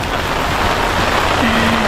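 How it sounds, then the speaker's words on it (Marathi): Steady rain falls at a riverside resort in Khopoli on a monsoon morning, a dense, even hiss of drops heard close and continuous, with no voices. "आणि आता पावसाने पण सुरुवात केलेली आहे सकाळचे."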